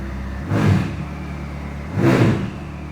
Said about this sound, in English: You'll hear the little turbo.